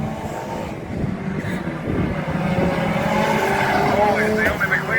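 Banger racing cars roar steadily around the Crimond Raceway oval in a ladies' race, a continuous mass of engine noise heard under an excited commentator's running talk.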